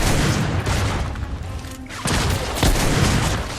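Gunfire in the video game The Order: 1886, loud overlapping shots and booming blasts in dense bursts, briefly thinning before erupting again.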